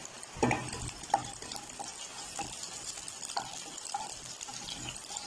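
Dried red chillies and curry leaves fry and get stirred in a pan, making a quiet crackling sizzle broken by scattered scrapes and clinks of the spoon, no voices.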